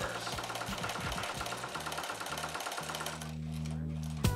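A sewing machine runs steadily with a rapid mechanical whirring and stitching rhythm in short bursts, loud and close, with a brief pause and a sharp click at the end.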